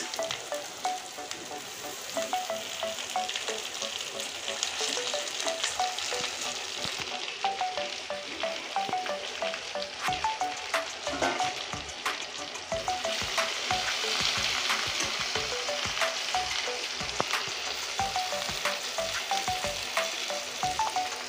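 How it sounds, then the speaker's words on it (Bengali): Chopped taro leaves hit hot oil and sizzle loudly and steadily, with a dense crackle running throughout and frequent scrapes and stirs of the spatula. No voices are heard. "এই শাকটা এখন দিয়ে দিব তেলের উপরে, তেলে ছেড়ে দিচ্ছি।"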